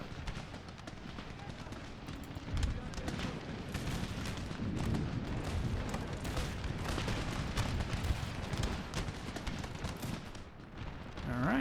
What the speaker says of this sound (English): And get these boys to open fire